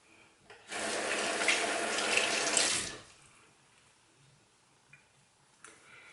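A bathroom tap runs for about two seconds as a face mask is re-wet, a steady close gush of water that cuts off sharply, followed by faint handling sounds.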